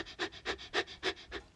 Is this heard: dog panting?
yes